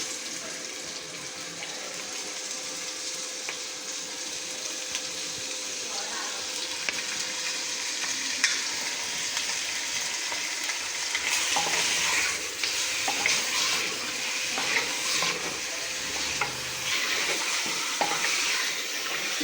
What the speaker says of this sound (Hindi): इसे मैं 5 से 7 मिनट तक भून लूँ